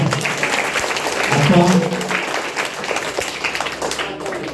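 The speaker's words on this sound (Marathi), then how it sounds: "साखरेच्या नावाने टाळ्या वाजवा." An audience at a science quiz competition claps together for a contestant, a dense, fairly loud round of applause that swells slightly and then carries on steadily, with some voices mixed in.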